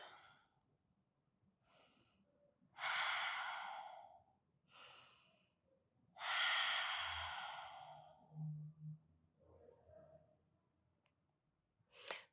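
Slow, deep breaths during a restorative yoga session: long airy inhales and sighing exhales come in a few spaced, close waves, with quiet pauses between them and a faint low rustle of movement.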